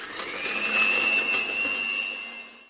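An electric mixer whirs steadily and loudly, blending cake batter ingredients with a pinch of salt and vanilla, holding one even tone for a few seconds before trailing off.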